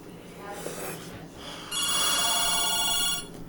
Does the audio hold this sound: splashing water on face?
no